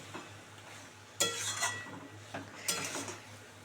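Fish head and cabbage are stirred in a pan with a utensil, giving a few distinct scraping, clattering strokes over a faint sizzle, close and fairly quiet.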